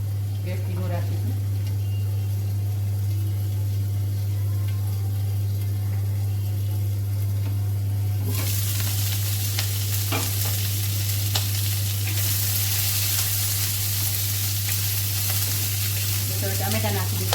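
A covered pan cooking over low gas for dudhi malai kofta gives a steady low sizzle over a constant low hum, and the hiss grows noticeably louder and brighter about halfway through.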